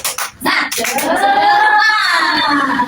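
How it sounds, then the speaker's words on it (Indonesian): A class of schoolchildren does the "tepuk semangat" clapping chant, a few sharp claps at the start followed by children's voices sustaining a loud chanted call, close and lively. "Tepuk semangat."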